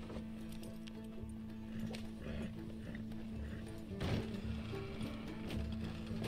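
Horse hooves clip-clop in a steady rhythm in the video game Red Dead Redemption 2 on PS5, fairly quiet, mixed with rattling, ratcheting mechanical clatter from a coach.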